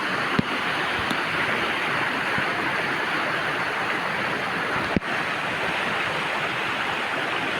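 Heavy rainwater rushes toward a village lake in a steady, loud, broadband roar, with a couple of sharp knocks against the microphone and no voices.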